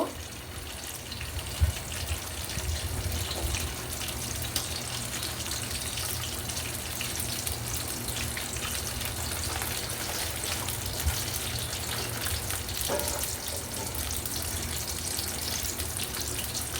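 Nuts frying in a pan until light brown, a steady crackling hiss of oil that holds evenly throughout without pause, fairly close and unaccompanied by voices.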